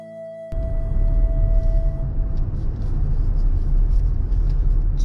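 Car driving slowly through a quiet, clean residential community with canals, a steady close engine and road rumble that starts abruptly and continues evenly.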